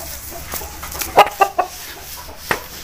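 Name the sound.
Aseel rooster clucking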